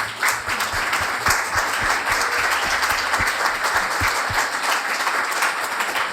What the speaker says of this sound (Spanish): Un fuerte aplauso, por favor, para María Olivia, por favor.